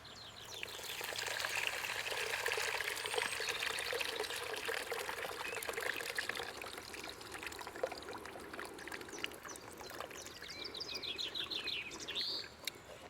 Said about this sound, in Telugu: ఇప్పుడు మనం చింతపండు పులుసు పోసుకుందాం